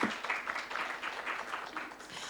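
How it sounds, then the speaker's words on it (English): An audience at a summit on sustainable development gives a round of applause, a steady wash of many hands clapping at moderate distance, somewhat subdued, with a voice faintly present. "Another round of applause for her."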